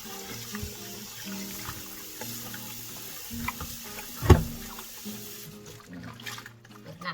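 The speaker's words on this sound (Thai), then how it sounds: "เปิดน้ำล้างจ้ะ เปิดน้ำล้าง" Tap water runs steadily into a sink while vegetables are rinsed for a Thai Chaiyaphum-style fermented vegetable dish, a soft constant wash with a brief louder splash partway through and faint background talk.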